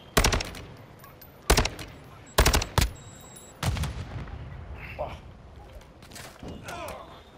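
Bursts of automatic gunfire in Call of Duty: Modern Warfare II DMZ mode, three loud close volleys early on, then quieter scattered shots and game noise.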